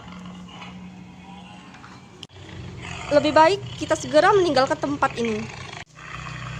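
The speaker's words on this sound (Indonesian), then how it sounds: "Tiba-tiba terdengar suara harimau yang mengaung." A tiger roars in a folk-tale stage drama, giving a loud, rising and falling growling roar of several pulses over about three seconds, with a person speaking before and after it.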